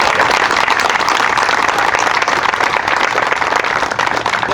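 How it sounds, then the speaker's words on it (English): A crowd at a small business protest applauds steadily and loudly for Tim and Jane, a dense, even wash of many hands clapping that holds for several seconds with no voices on top. "they deserve a real round of applause for sticking with us"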